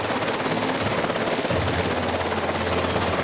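A helicopter sound effect in a Jurassic World dinosaur toy movie: a steady, loud, chopping rotor drone throughout, with a deeper engine rumble joining halfway, no voices heard over it.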